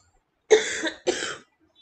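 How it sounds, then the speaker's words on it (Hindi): Two short, sharp coughs in quick succession, close and fairly loud, with silence before and after. "बार बार खांसी आ जा रही है"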